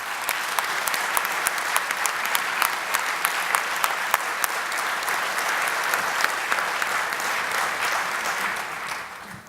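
Sustained audience applause fills a banquet hall at an award dinner honoring a trial lawyer, dense and steady throughout with no talk over it.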